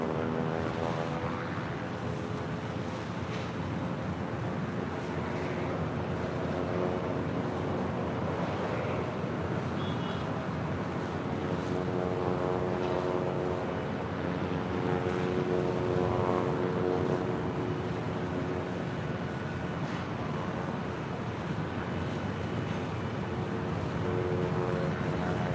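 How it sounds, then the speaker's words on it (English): Southwest Airlines Boeing 737-700 jet on flight 1075 to Denver at LAX, its engines a steady, loud roar with a droning hum throughout, alone and without voices. "Heading to Denver, that is Southwest Airlines flight 1075 and the 737-700."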